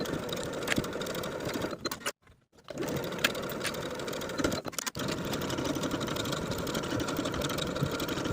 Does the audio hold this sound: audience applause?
no